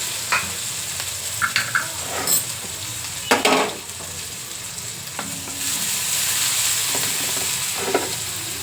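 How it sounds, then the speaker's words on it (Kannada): Tempering spices frying in oil on a small stove, close crackling sizzle with several spoon scrapes and knocks against the pan, then a steadier hiss, no voices. "ಅದನ್ನು ಸ್ವಲ್ಪ ಒಗ್ಗರಣೆ ಮಾಡ್ತಾ ಇದ್ದೀನಿ"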